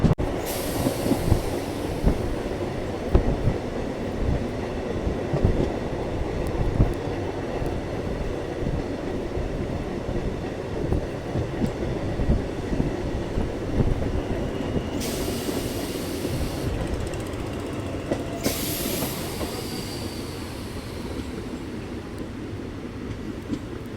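A MEMU local train on the Eastern Railway runs along the rails after leaving a station between Katwa and Kurmadanga, a steady loud rumble with rhythmic wheel clatter throughout and brief bursts of high hiss partway through.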